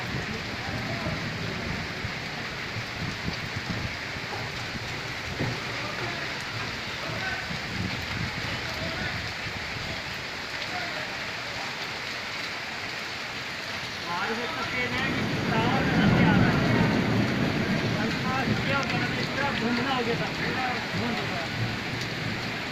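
Heavy rain pours steadily in Makkah, a dense hiss that swells louder partway through, with a crowd of pilgrims circling the Kaaba murmuring faintly underneath.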